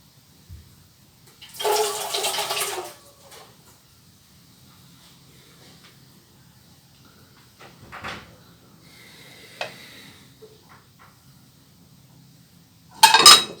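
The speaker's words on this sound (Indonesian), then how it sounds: "kita langkah baiknya kita cuci dulu ya teman-teman dengan menggunakan air" Turmeric roots washed under running water: a short loud gush of water for about a second and a half, then quiet with scattered small knocks and clatters, and a final sharp splash at the end.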